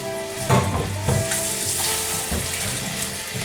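Beef and peppers sizzle in a hot pan while being stirred, a steady close frying hiss broken by several scraping stir strokes at irregular intervals, with no voices.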